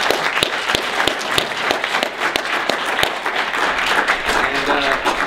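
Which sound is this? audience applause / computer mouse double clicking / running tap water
audience applause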